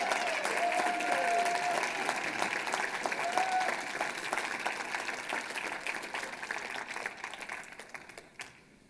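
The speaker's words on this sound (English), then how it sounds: "Let's give a round of applause" Audience at an organic farming conference kick-off applauding staff, a full, steady round of clapping from many people that gradually thins and fades out over about nine seconds.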